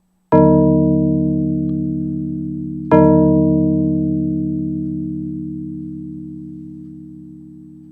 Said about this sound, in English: This is the sound of the biggest bell in the UK